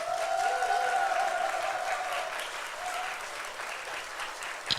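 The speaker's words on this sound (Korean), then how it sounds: "박수로 환영합니다." A church congregation claps to welcome a missionary to the front, a steady wash of applause that slowly tapers off.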